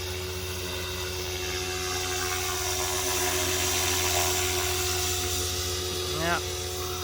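A Blade Fusion 480 RC helicopter flies nearby, its steady rotor and motor drone running continuously, loud and even throughout, with a brief voice near the end.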